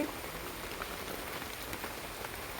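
Steady rain falls on surfaces around a home garden, a dense, even patter of drops heard alone with no talking.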